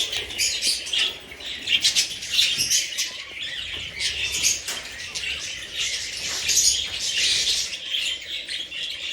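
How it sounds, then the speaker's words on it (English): Budgies in an aviary chirp and squawk in a dense, busy chatter, with soft wing flapping as the birds fly between new perches, steady and moderately close throughout. "The Budgies are flying longer distances, exploring every corner, and playing on the new perches."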